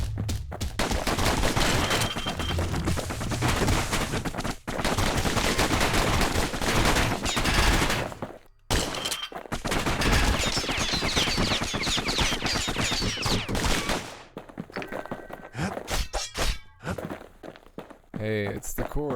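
Gunfire in the action game Bastion: rapid bursts of shots and impacts layered with footsteps and game noise, loud and dense for most of the stretch, thinning into scattered hits near the end, with a voice talking over it.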